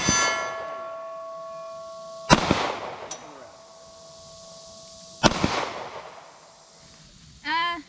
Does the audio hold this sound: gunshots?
yes